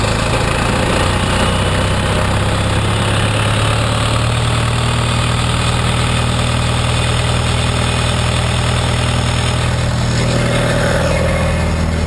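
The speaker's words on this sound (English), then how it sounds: "we're going to idle that pump up to our desired rate or RPMs" Pump engine idling and being brought up to 1200 RPM, a loud, steady, close-up mechanical drone with a deep throb that holds throughout.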